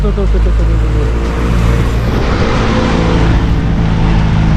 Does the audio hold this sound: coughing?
no